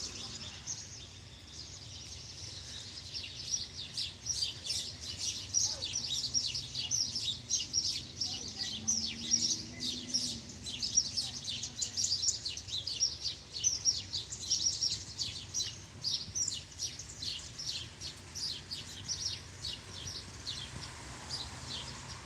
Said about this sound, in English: See if the blue jay comes back.